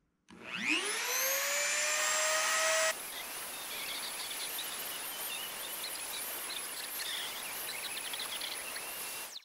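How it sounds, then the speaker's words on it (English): A Dremel rotary tool spins up to a high-pitched whine and routes a guitar fretboard for binding, holding a steady, close, buzzing cut throughout. "I got the Dremel set up."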